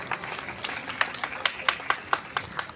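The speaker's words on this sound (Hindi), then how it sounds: "जोरदार तालियां।" A crowd applauds at a Shirdi Sai Baba devotional event with steady, lively clapping, moderately loud, with a few sharper individual claps standing out.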